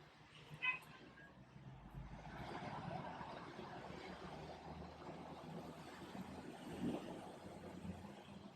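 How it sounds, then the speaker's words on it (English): Steady low rumble of road traffic drones on, with cars passing continuously at a distance and no talking. "Literally all of the cars. It was not this noisy when I was inside before"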